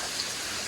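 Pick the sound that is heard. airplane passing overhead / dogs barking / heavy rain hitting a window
heavy rain hitting a window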